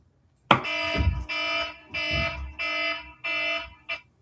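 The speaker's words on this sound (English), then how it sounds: "That's my alarm for me to wake up." A wake-up alarm goes off suddenly after silence, five loud, buzzy electronic beeps in an even pulsing pattern, close and harsh, with no talking over them.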